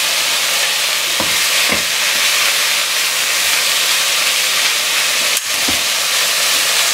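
A zucchini mixture for lasagne is searing in a pan, making a loud, steady hiss and sizzle that fills the whole clip, with a few faint scrapes of a utensil and no voices.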